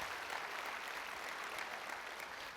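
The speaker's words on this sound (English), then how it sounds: "Give us a round of applause" A conference audience at a schools conference opening session claps steadily in a dense, even round of applause, moderately faint and distant-sounding, with no voices over it.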